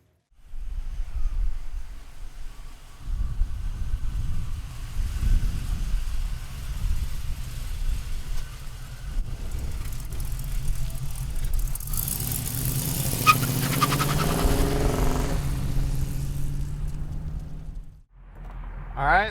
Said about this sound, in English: All right, let's take a 69 for a ride.